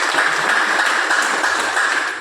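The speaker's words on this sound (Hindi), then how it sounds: "अगेन जोरदार ताली हो जानी चाहिए।" Loud, dense audience applause at a business-plan seminar, steady and continuous from start to finish with no voices over it.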